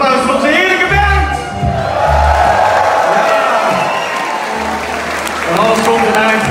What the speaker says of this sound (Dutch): nog één keer een duidelijk applaus voor onze heerlijke band!